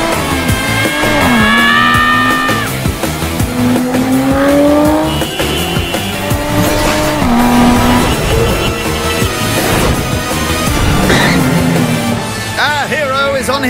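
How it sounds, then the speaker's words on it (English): A cartoon car speeds through city streets in the Danger Mouse animated series, engine whine and tire squeals rising and falling over lively music, loud and close, with a narrator speaking over it. "speeding through the streets with style, grace, and scant regard for local traffic laws is Danger Mouse."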